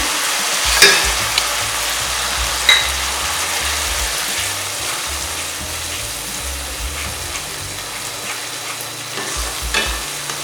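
Fresh cream stirred into a sizzling restaurant-style green peas masala gravy, with a steady frying hiss under scraping spoon strokes and a few sharper clinks against the pan, continuous throughout.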